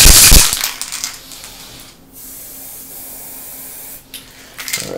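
A loud hiss of spray paint bursts close by from a can with a cap spraying in an odd pattern, then fades to a quiet gap before a second short spray returns at the end.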